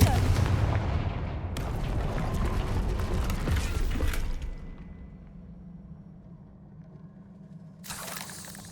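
Confringo blasting spell in a fantasy action video game going off with a loud, sustained explosive rumble and crackle that fades into a low hum, followed by a short burst of noise near the end.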